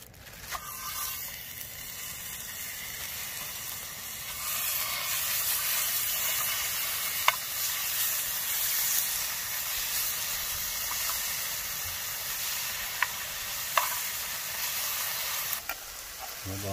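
Sirloin steak strips with green peppers and onions sizzle steadily in a pan on a camp stove outdoors, a continuous hiss with a few sharp pops and a little stirring, and no talking.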